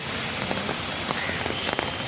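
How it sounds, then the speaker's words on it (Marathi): Heavy monsoon rain pours down on a Mumbai street, a steady dense roar with scattered close drops pattering on surfaces throughout. "आज मुंबईमध्ये खूप पाऊस आहे"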